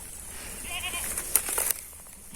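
A first-time mother goat on a Thai farm, nervous after an injection and suffering sudden calcium deficiency, lets out a short, fairly faint bleat over steady background farm noise.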